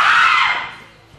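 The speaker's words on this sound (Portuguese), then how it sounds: "Dona Evarista soltou um grito." A woman screams during a school theatre play: a single loud, high cry that fades away within about a second.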